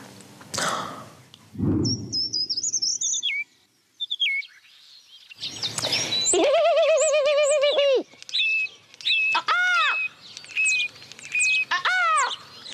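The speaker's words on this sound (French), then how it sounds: "à partir de 5h30, hein, quand le jour se lève, c'est la teuf chez les oiseaux" Birds sing at daybreak around a nest-like shelter out in nature: clear repeated whistles, cooing and chirped phrases near and loud, separated by brief quiet gaps.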